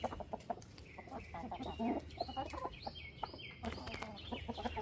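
Several chickens in poultry netting cluck and chatter close by in an irregular stream of short calls, some louder squawks rising over a soft outdoor background.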